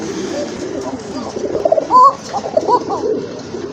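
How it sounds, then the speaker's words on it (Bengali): A pair of koka pigeons offered for sale in Bangladesh coo in short low calls a few times over a steady, busy background murmur. "আরেক জোড়া কবুতর"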